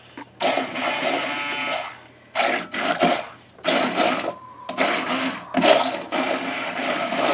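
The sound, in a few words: immersion stick blender mixing deer brain slurry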